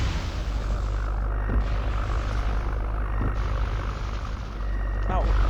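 Propeller warplanes drone overhead in the WWII strategy game Total War 1942, a steady engine hum with brief bursts of noise, while someone talks over the sound.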